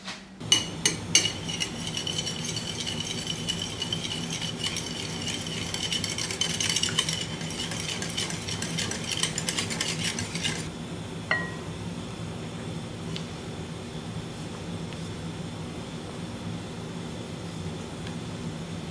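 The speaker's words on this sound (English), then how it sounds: "just keep that in mind while you're folding in the egg whites with the egg yolks" A utensil folds beaten egg whites into egg yolks in a bowl for a tres leches cake, giving repeated light scraping and clinking strokes that fade into quieter, steady mixing with a faint hiss.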